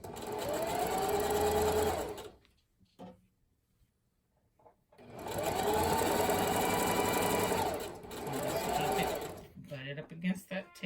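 A sewing machine backstitching fabric for a St Patrick's Day wreath runs in two loud, steady bursts separated by a quiet pause, then a shorter stretch. Speech is heard between the bursts.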